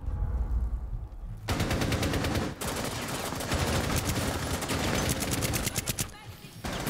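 Loud, rapid bursts of automatic gunfire in Rainbow Six Siege rattle almost continuously, broken by a couple of brief pauses, with game-like sharpness.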